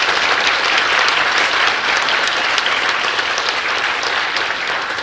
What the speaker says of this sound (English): Could we have a round of applause for everyone who took part today?